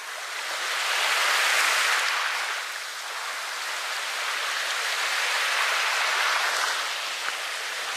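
Broad, hissing wash of surf that swells and recedes in slow surges, like waves rolling onto a shore, with no voices.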